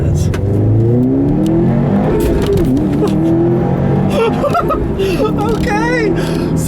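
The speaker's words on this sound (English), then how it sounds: "So it's nice that now you can finally have some good induction noise." A 2015 Subaru WRX STI accelerates hard on a back road, its loud induction noise rising in pitch through successive gears as someone talks over it.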